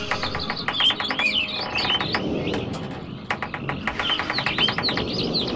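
Birds chirp and tweet in the woodland of the Channelwood Age in the video game Myst. Repeated bright calls ride over a constant rustling, watery ambient bed, loud and close, with no talk.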